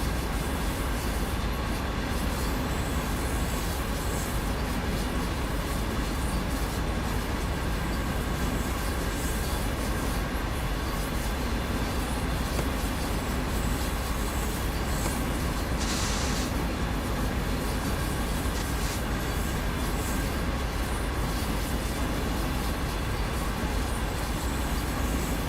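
A CSX C40-8W diesel locomotive in the game Train Sim World 2, a continuous dense rumble and rolling rail noise at steady loudness throughout, with no talk.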